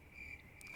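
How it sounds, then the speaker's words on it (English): Crickets chirp as a comedic sound effect, a faint, steady high-pitched trill that lasts under a second. "Crickets."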